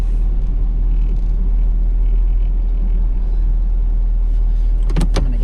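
A plow truck's engine drones steadily as its wheels spin on a snowy hill, a constant low rumble with a sharp burst of clatter just before the end.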